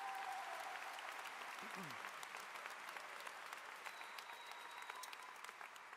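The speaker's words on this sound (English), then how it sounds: "let's give another round of applause to those 3, to our speakers" An arena crowd at a high school graduation applauds its speakers, a broad, steady wash of clapping heard from a distance that holds evenly for the whole stretch.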